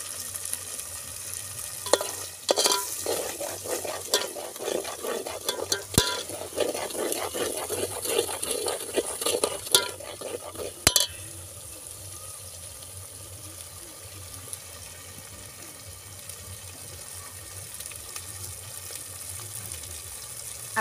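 Masala for dry chicken frying and being stirred in a pan, busy scraping and sizzling through the first half with sharp utensil knocks, then settling into a quieter steady sizzle, close up with no talking.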